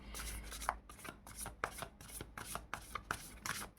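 Tarot cards shuffled for a reading, a rhythmic series of about nine soft riffling flicks in quick succession, close and quiet with no talk.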